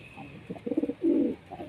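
A breeding pair of pigeons coos nearby in a loft, giving a few soft throaty pulses followed by one longer, fuller coo.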